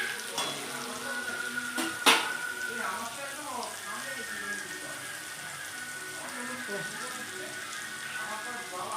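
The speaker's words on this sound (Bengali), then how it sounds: "একদম ব্রাউন ব্রাউন করে ভাজা হবে" Ingredients for biryani fry in a pan, browning until deep brown, giving a steady close sizzle with stirring scrapes and a sharp clatter near the start, while a voice talks over it.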